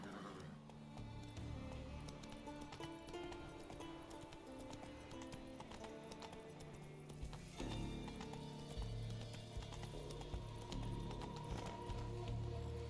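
A horse gallops in The Witcher 3 video game, its hooves drumming in a steady, continuous rhythm under a dense bed of in-game ambience.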